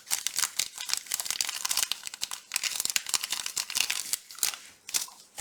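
Paper crumpled and crinkled by hand during a craft project, a dense run of crackling rustles and tearing-like crunches that continues steadily and close, with no talk over it.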